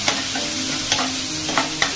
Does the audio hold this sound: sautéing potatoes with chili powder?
yes